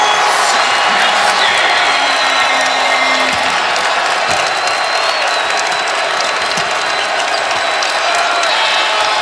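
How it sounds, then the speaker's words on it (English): Basketball crowd in Austin at a Texas home game, loud sustained cheering and whooping with applause filling the arena, a whistle-like tone briefly cutting through. "The crowd's into it now in Austin."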